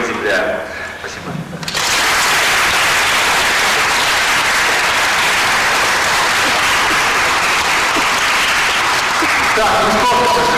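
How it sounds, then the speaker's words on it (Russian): A few faint voices give way to loud, sustained applause from a large crowd, continuing steadily to the end. "эти аплодисменты свидетельствуют о том, что посудимому сегодня удалось оправдаться"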